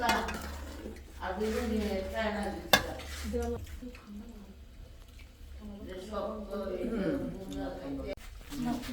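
A spoon stirs a sweetened milk mixture in a pot while making pitha, giving light clinks and scrapes against the metal with one sharper knock. Steady talking runs over most of the sound.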